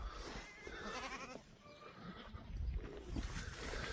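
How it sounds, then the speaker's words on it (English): Goats approaching to strip pine branches, faint bleats and soft rustling heard quietly at a distance, with no voices. "see what these goats do to these pine branches."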